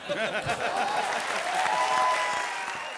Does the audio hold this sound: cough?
no